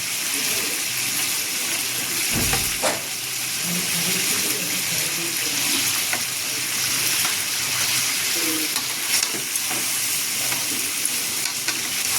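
Ground cumin paste sizzling in hot oil in a pan for Bengali crab curry, a loud continuous hiss with scraping stirs and a few clatters of the spoon against the pan, close and uninterrupted.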